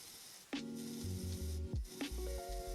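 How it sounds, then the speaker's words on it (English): A carbide burr on a rotary tool shaves the sprue mark off a cast resin signet ring, giving a faint, close high-pitched whine that rises and falls in short grinding bursts with brief pauses. "the carbide burr works really nicely in removing a lot of material pretty quickly"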